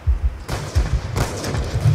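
Several gunshots fired in Call of Duty: Black Ops 2 on PC, two or three sharp bursts spaced apart over a steady low rumble of in-game ambience, close and fairly loud.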